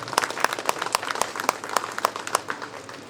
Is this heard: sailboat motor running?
no